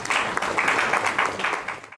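Brief burst of audience applause at an investiture ceremony for a branch chairman and executive committee, full, busy clapping that holds steady and then cuts off abruptly.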